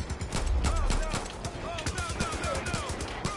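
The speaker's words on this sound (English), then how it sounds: "I just shot this guy in the fucking head" Gunfire in the video game Far Cry 5, a burst of loud rapid shots and impacts amid dense game noise, with a voice talking over it.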